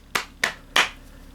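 Three distinct hand claps ring out one after another, sharp and close, spaced unevenly with short pauses between them and nothing else but faint room hiss.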